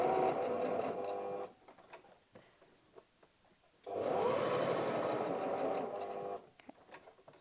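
A sewing machine stitches wallet pieces together all the way around in two loud continuous runs separated by a pause filled with light clicks and fabric handling.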